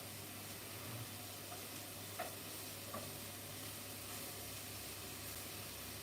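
Meat browning for a stew in a pan, a steady, even sizzle and hiss that goes on without a break, fairly faint, with a couple of soft ticks and no talking.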